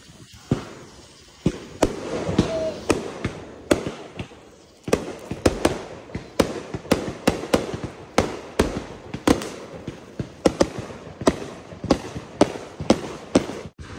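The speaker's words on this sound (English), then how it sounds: "we're just gonna look at those fireworks" Fourth of July Independence Day fireworks exploding: a long run of sharp, loud bangs and crackling bursts at irregular intervals, some close together, with rumbling between them.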